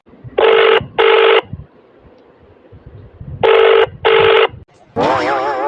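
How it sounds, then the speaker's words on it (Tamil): A cartoon telephone rings with two pairs of loud, electronic double trills separated by a short pause, followed by a wavering warbled tone, with quiet background sound between rings. "இனியாவுக்கு ஃபோன் பண்ணலாம் சீக்கிரம் ஃபோன் எடு"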